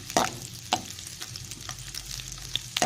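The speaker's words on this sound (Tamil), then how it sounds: "இந்த பூண்டு வந்து நல்லா அந்த மெரூன் கலர் வரும்ல, அந்த அளவுக்கு நல்லா வதங்கட்டும்." Garlic sautéing in oil for tomato thokku, a soft sizzle broken by sharp clicks and scrapes of stirring, close and quiet.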